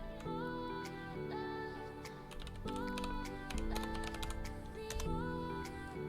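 Fingers tap a computer keyboard in quick, uneven bursts of soft clicks, faint and close, over quiet background music.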